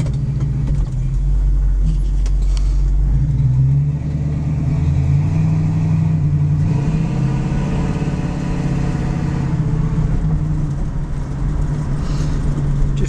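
A 1966 Ford Mustang with a 289 four-barrel V8 and automatic transmission, heard from inside while driving, gives a loud steady low engine rumble with mild rises in revs and no talking.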